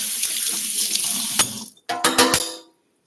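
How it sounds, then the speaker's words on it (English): A small spoon is rinsed under a running sink tap, a close hiss of water that cuts off, then a few sharp clinks and splashes of metal against the sink. "I'll wash this little spoon off real quick."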